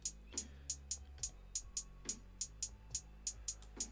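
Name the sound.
drill hi-hat pattern in dotted eighth-note triplets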